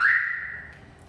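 A single short electronic chirp from a Compustar car alarm as the car locks, sharp at the start and fading over about a second, heard alone and fairly close.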